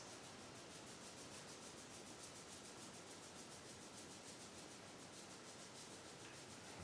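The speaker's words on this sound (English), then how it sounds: "just rub those 2 points together on both your hands" Two hands rub together at the wrist points, a continuous, faint, hissing friction that stays even and unbroken throughout.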